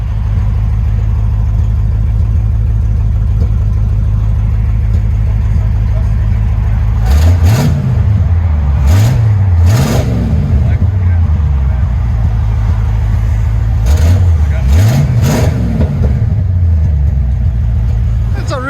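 A 1952 Chevy Styline with a V8, headers and glass pack mufflers rumbles steadily at idle from inside the car, then two pairs of sharp throttle blips rise and fall over the deep low drone.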